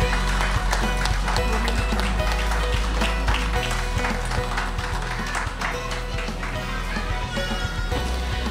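Audience at an IABJ Bihar and Jharkhand Diwas event applauds to welcome a speaker, dense loud clapping sustained throughout with scattered sharper claps and a background hum beneath.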